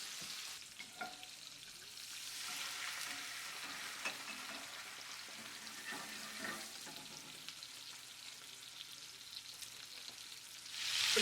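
Thick tomahawk ribeye steaks searing over high heat in a cast iron pan, a continuous loud sizzle and spatter close up with a few crackles, rising sharply at the very end.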